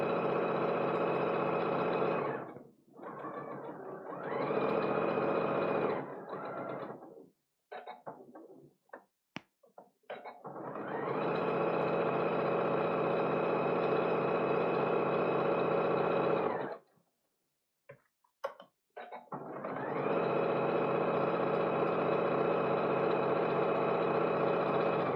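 Sewing machine running an eighth-inch seam allowance around fabric for a little fabric box, a steady close hum in long bursts with several short stops and brief starts between runs.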